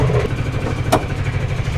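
Bajaj Maxima XL cargo three-wheeler engine running steadily in forward gear, a close, even mid-pitched chug with a brief sharp click partway through.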